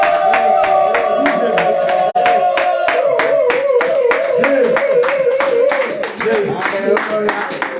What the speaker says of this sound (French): nous pouvons acclamer plus fort pour Jésus